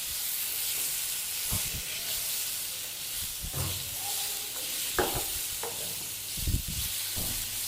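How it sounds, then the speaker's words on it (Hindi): Masala for a mixed vegetable curry sautéing in a pan, with a steady sizzle under scattered scraping stirs of a spoon. No one speaks. "इस तरीके से देखें मैं भुनाई कर लूँगा।"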